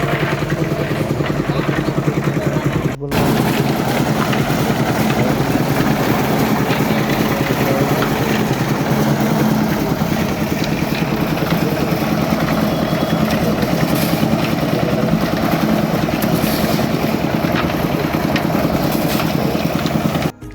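A concrete casting machine's engine runs in a loud, steady, unbroken drone with a clattering texture, dipping only briefly for an instant near the start.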